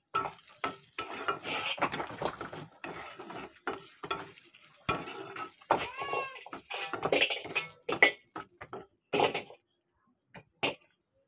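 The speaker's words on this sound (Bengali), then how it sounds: "ফোড়ন দিয়েছি জিরে, তেজপাতা, শুকনো লঙ্কা। ফোড়নটা ভাজা ভাজা হয়ে গেছে, এবার মেজে ডালটা ভেজে দিচ্ছি।" Lentils frying in a pan after a tempering of cumin, bay leaf and dried red chilli: steady sizzling with repeated scraping and clanking of a metal spoon against the pot, close and busy, ending in a few sparse knocks.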